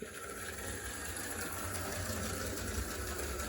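An HO scale model locomotive named Clementine runs along its track, giving a steady, close whirring motor buzz with a low rumbling rattle that continues unbroken throughout, with no talking.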